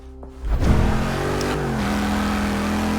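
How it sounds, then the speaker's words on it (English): A 2015 Dodge Challenger SRT Hellcat muscle car in Forza Motorsport 6 revs hard, then settles into a loud, steady engine drone that holds alone to the end. "2015 Dodge Challenger SRT Hellcat is the most powerful muscle car in the world and would blow your doors clean off"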